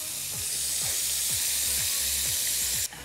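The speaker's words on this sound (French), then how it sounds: "j'ai mis les scampis dans une huile bien chaude pour que ça saisisse" Scampi sizzle in very hot oil in a pan, a loud, continuous bright hiss with faint periodic scraping underneath, ending with a sudden drop in intensity.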